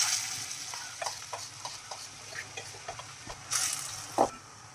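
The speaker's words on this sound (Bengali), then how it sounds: "এবারে আমরা তেলের মধ্যে পুরটা দিয়ে দেব।" A filling fries in hot mustard oil, a soft sizzle under scattered clicks and scrapes of stirring, with a couple of louder utensil knocks near the end.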